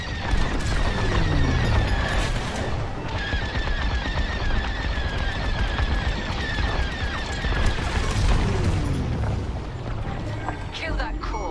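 Dense, sustained space-combat barrage in the Star Wars Squadrons video game as the core detonates, with booming blasts, rapid laser fire and crashing impacts running continuously at high loudness, with voices talking over parts of it.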